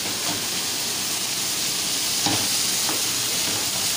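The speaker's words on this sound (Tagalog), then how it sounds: "Luto si JR ng barbecue." Pork barbecue skewers cook with a steady, close sizzle and hiss that holds evenly, with a few brief flares of louder crackle and no voices.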